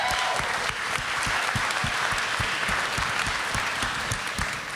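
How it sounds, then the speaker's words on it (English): A festival panel audience gives a warm round of applause, dense clapping with a few sharper individual claps standing out, continuous and even throughout. "Keep clapping for John Salzberg."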